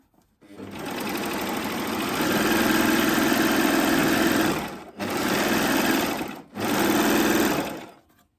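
A Baby Lock Acclaim sewing machine stitches through double-layer fabric with a loud, fast, even whirring rattle, running in three bursts separated by two short pauses.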